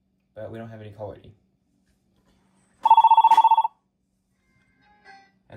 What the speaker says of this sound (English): And there goes that phone ringing.